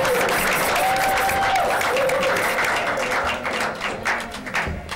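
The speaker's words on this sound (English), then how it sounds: "So can we have a round of applause for him?" Steady applause from a live show audience, a thick wash of clapping hands close by that fades slightly toward the end.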